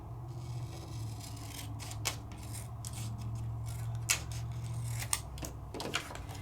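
Scissors trimming a die-cut paper card, close crisp snips and sliding cuts in short bursts over a low steady background hum.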